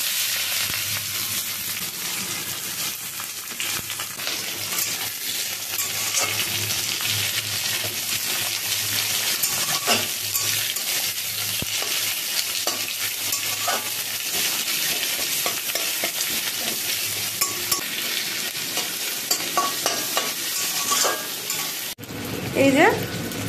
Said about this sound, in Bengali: এই যে কুচুনো পেঁয়াজ কুচিয়ে রেখেছিলাম ওটা দিয়ে দিচ্ছি।